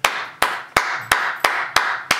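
Sharp, evenly spaced claps at an Obama Rose Garden speech, seven crisp, loud hits at a steady rhythm of about three per second, each decaying quickly, close and with no speech.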